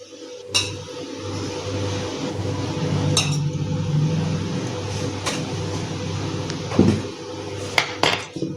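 Anarsa dough of rice and sugar being mixed with a few spoons of milk in a bowl, with steady soft scraping and stirring broken by occasional sharp clinks of utensil on the vessel, close and with no talking.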